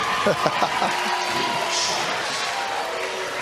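A crowd at a Little League World Series baseball game between New Jersey and Massachusetts cheers and claps in a broad, distant-sounding roar that swells briefly then settles, with a commentator's voice over the start.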